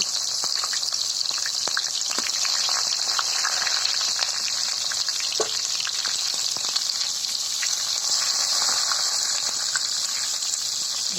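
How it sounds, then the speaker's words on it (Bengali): Raw jackfruit frying in hot oil in a home kitchen, a steady, close, bright sizzle with scattered pops and crackles, running without a break and with no talking. "কাঁচা কাঁঠাল ভাজা হইতেছে গরু মাছের মধ্যে দেওয়ার জন্য"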